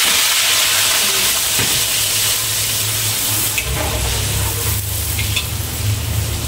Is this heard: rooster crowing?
no